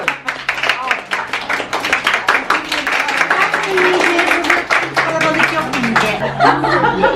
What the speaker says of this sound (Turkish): Evet alkışlar.